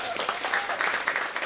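Audience applause patters continuously at moderate level, a dense spread of clapping from a crowd at a public announcement.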